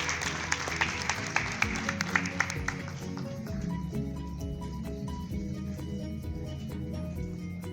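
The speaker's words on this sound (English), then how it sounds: "Let's give him a really warm round of applause" Brief audience applause at a meeting for MIT professor and scientist Jean Bele: quick clustered claps at the start that thin out and give way to sustained musical tones.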